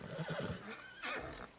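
A horse in Red Dead Redemption 2 Online gives a short neigh, a quick run of whinnying pulses followed by a brighter trailing cry.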